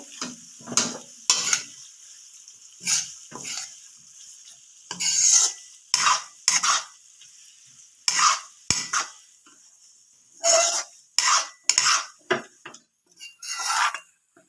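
Hibiscus flowers, curry leaves and bhringraj leaves frying in oil on low heat, with a steady faint sizzle broken by repeated scraping and stirring strokes of a utensil against the pan, no voices.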